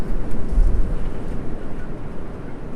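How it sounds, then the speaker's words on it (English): Strong outdoor wind gusting at a steady 16 mph with 20 to 30 mph gusts, a loud, continuous low rumble buffeting the microphone throughout, with no talk. "I'm going to zoom you guys back out so you can see some of the wind here."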